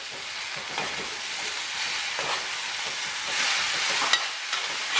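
Vegetables with hot pepper sizzle and crackle in a hot frying pot while a spoon stirs through them, a steady loud hiss with occasional scraping strokes.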